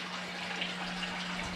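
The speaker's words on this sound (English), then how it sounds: "the water is filling up" Water runs steadily into a red-eared slider turtle habitat tank, a continuous broadband rushing hiss like a tap filling, close and even throughout with no voices.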